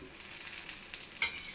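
A chapati fries in a film of oil on a hot pan, a brief close hiss of crackling oil with a few louder pops.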